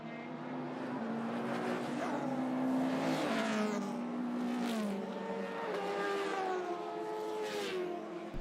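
Race cars at a circuit race meeting howl past in turn, engines rising and falling in pitch as they accelerate through the esses, loud and continuous with no talk.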